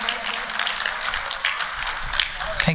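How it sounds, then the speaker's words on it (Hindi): An audience at a school Annual Day celebration claps in a steady patter of applause, mid-distance, while a voice talks over it. "जोरदार तालियों द्वारा अभिनंदन किया जाए।"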